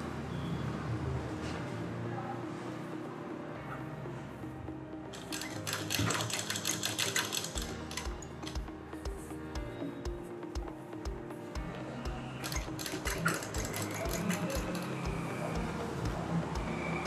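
A sewing machine stitches a kurti in close, rapid runs of needle strokes, pausing briefly between two bursts of fast mechanical clatter.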